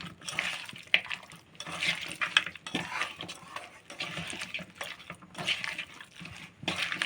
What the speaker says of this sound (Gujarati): અને પછી આપણે આને હલાવીશું કડીક હજી